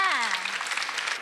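Audience applause at a Vietnamese TV game show, a steady wash of clapping lasting about a second, with a voice briefly sliding over the start.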